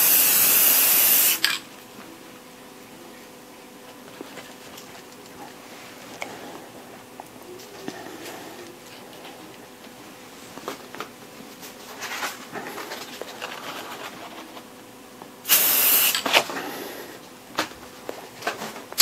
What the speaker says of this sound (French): J'utilise moi des pochoirs avec la bombe,